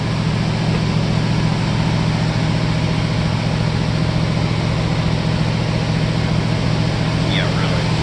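An opened-up engine with its internals exposed runs in a garage, a steady loud low drone with a constant hum throughout, no clear rev swell, and no talk over it.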